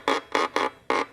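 A fiddle string bowed slowly with a horsehair bow, four sustained bowed strokes in steady rhythm, close and clear with brief gaps between them.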